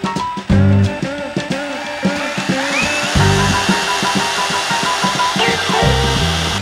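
An OSUKA OCRH852 rotary hammer drill whirs steadily for several seconds, its motor pitch wavering slightly as it spins, loud and close with no talking.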